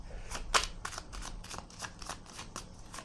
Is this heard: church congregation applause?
no